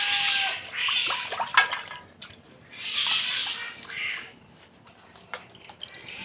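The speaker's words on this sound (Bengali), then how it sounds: "মাছগুলোকে একটু পরিষ্কার করে ধুয়ে নিচ্ছি" Live koi fish are washed in water after being rubbed with ash, with splashing and dripping water in irregular bursts, some fish still flopping, close by and moderately loud.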